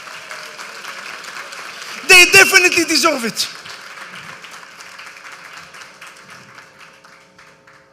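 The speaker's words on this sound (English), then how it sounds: "Let's clap the hand for the shluchim of Eretz Yisrael." Audience at a gathering honouring the shluchim of Eretz Yisrael breaks into a short burst of loud clapping lasting about a second and a half, fading into a speaker's voice that continues over the room.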